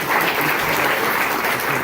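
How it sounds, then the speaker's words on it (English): Audience at a magic show applauds a volunteer coming up on stage, a brief, even burst of dense clapping filling the room without talk. "Guys, give Trisha a round of applause"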